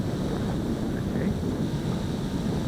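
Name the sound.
wind blowing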